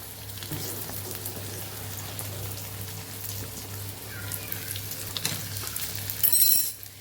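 Potatoes frying with sautéed onions in a pan, a steady close sizzle and crackle running throughout, with a low hum beneath and a brief louder spatter near the end.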